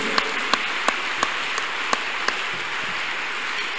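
Church congregation clapping hands, a run of sharp, evenly spaced single claps over a steady hiss, with no voices over them.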